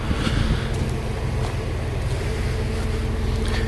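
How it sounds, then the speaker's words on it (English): A 1999 Ford Contour SVT idles with a steady low rumble while cooling fans whir continuously, close and fairly loud. "You can hear the fans kicking on there. We are idling right now."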